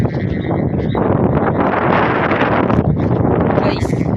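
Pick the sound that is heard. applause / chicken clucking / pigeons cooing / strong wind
strong wind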